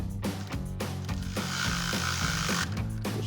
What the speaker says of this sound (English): Now we'll grab our 4mm Allen socket on our ratchet and an 8mm wrench. Tighten this down.